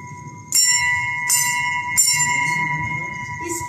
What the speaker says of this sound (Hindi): 10 बजे मंदिर की घंटी बजती है